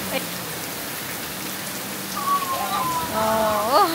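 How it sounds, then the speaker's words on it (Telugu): Heavy rain pours steadily as a constant broadband hiss at Beachcomber resort on a Fiji island, with a few brief tonal calls or voices rising over it toward the end. "ఇప్పుడు చాలా వర్షం పడుతుంది."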